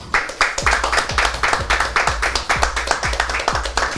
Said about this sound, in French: On applaudit pour Messoumbe qui nous vient de Bonapriso,